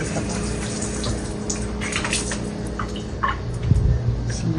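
Water pours steadily from a tap at a workplace to fill a container for heating, a continuous rushing splash with a slight gurgle and a small clunk near the end.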